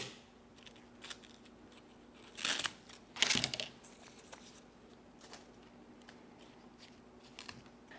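Scissors snipping off old Alocasia leaves and spent blooms, two crisp close cuts in quick succession among quiet rustling and faint crinkling of foliage.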